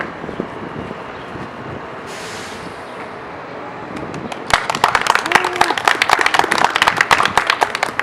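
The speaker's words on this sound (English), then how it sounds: "And they all clap." Applause breaks out partway through, a burst of dense clapping following a quieter stretch of background noise.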